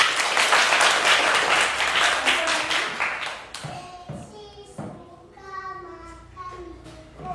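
Applause from a crowd of children and adults at a school gathering with a regional regent, dense and loud at first, then thinning into scattered claps under voices and chatter.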